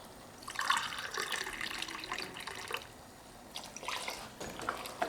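Water runs and splashes into a pot in irregular bursts, fairly close, with no talking.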